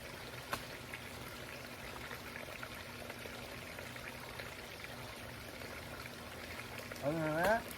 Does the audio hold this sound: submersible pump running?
yes